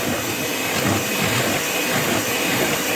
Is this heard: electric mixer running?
yes